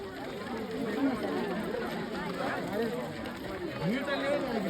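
Thick crowd murmur at a packed temple on a Thursday, many voices blending into steady babble with occasional nearer speech rising above it.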